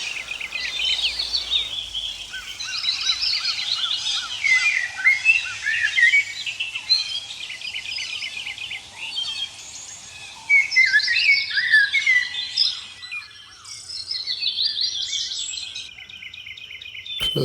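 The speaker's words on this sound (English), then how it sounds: "Close your eyes and let the soothing melodies of birdsong transport you to a tranquil forest" Birds sing in a tranquil forest, a steady layered chorus of chirps, trills and whistles from several birds at once, fairly close and continuous throughout with no talking.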